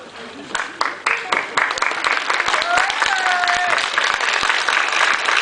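Wedding guests applaud after the couple's vows, a burst of dense clapping that swells quickly and holds steady, close and loud, with voices mixed in.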